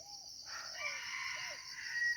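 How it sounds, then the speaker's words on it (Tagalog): A red junglefowl rooster crows once, a thin, reedy call rising and trailing off, fairly distant against a quiet outdoor background. "kung marinig yung mga kanter, tumitilaw yung ating pangating labuyo"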